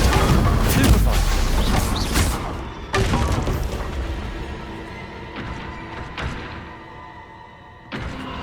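Confringo spell blasts in Hogwarts Legacy land as heavy booming explosions, one big impact near the start and more thuds and crashes after, loud and close, each decaying into rumble, with a voice shouting spell names between them.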